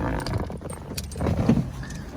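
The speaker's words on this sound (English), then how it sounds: "we'll turn the car off, put the handbrake on" Keys jangle as a 2015 Toyota 86 GTS is switched off and its handbrake pulled on, close metallic rattling and clicks over a low idle fading from the cabin.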